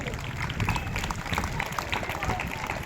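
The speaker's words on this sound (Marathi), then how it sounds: "टाळ्या वाजवा" Clapping from an audience at a school Ganesh festival event in Pokharni, Sangli, a dense, steady patter that runs throughout, with talk mixed in over it.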